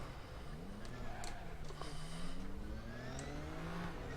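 Race cars, including a Nissan GT-R GT3, stream past at Bathurst in a racing video game, with engine notes rising and sweeping by one after another over a constant engine drone.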